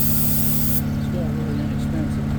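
A short, inexpensive Harbor Freight spray gun hisses loudly while spraying a vinyl seat of a 2020 Ford Explorer, cutting off abruptly after under a second, followed by a lower background hum.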